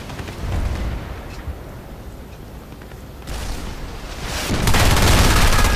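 Sniper gunfire in the video game Battlefield Play4Free. A low rumbling game background is broken by a sudden sharp burst, then a louder, sustained blast near the end, with no talk.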